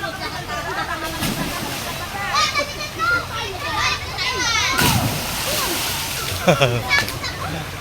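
Water splashes and sloshing as children play and jump in, with kids shouting and talking nearby and a couple of sharper splashes.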